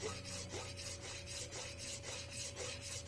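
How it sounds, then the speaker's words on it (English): A hand file rasps across the metal mounting face of a RotorWay EXEC 162F helicopter bearing housing in close, steady back-and-forth strokes, about six strokes in three seconds, with no voices. "Filing the entire face is important, as this is where the rigidity of mounting starts."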